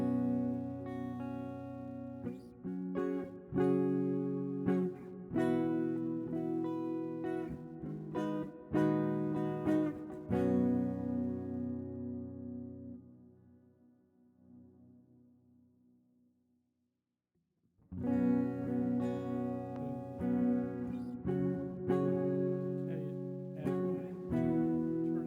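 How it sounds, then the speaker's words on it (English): Strummed guitar chords through the damp reverb setting of a Nux Verb Core Deluxe pedal, bathed in soft reverb, playing steadily, fading to near silence, then resuming just as full. "We'll go over to damp reverb."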